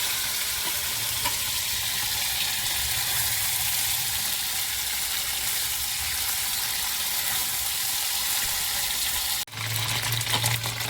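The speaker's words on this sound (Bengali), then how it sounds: "এবারে তেল গরম হয়ে গেছে, আমি ম্যারিনেট করা পনিরগুলো ঢেলে দিচ্ছি এখানে।" Marinated paneer frying in hot oil, a steady close sizzle that runs on and on, followed by a brief dip and a sudden louder burst of spattering near the end.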